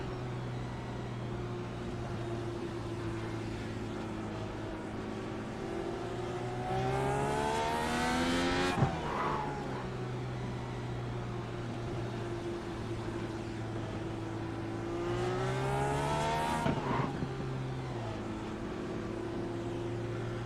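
An IndyCar Dallara IR18 race car in the iRacing video game drones at steady engine pitch, then twice revs up sharply into a high whine before dropping back, loud and continuous.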